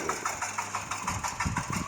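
An old motorcycle engine fitted to a homemade tractor, running close by with a rapid, even putter and regular pulsing beats.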